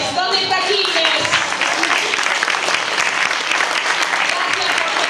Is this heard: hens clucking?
no